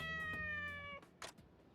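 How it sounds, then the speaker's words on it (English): Cat meowing in the video game Like a Dragon: Ishin, a long, harmonic, whining meow followed by a shorter, brighter second call, close and clear with no talking. "You're the greediest little cat I've ever met."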